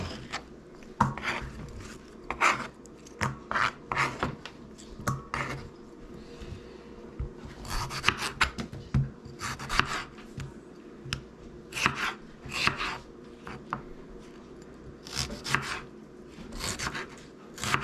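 A knife slices through tomatoes on a cutting board, giving a steady run of short, crisp chopping strokes close to the microphone with no talking.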